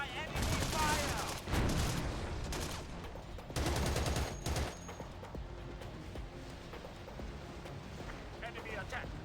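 Gunfire in the Xbox game Battlefield 2: Modern Combat: dense, loud bursts of automatic fire in two long volleys, then scattered lighter shots and rumbling battle noise, with voices mixed in.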